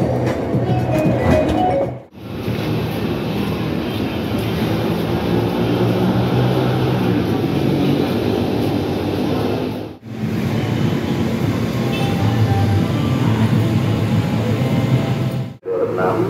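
A KRL commuter train bound for Rangkasbitung pulls into platform 6 of an Indonesian station, a loud, steady rumble of wheels and motors that continues throughout, broken only by a few brief gaps.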